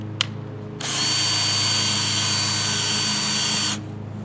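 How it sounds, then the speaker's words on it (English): Power drill boring holes into a pumpkin: after a brief click, one loud, steady high whir runs for about three seconds and then stops, up close with no talking. "drill the cavity out."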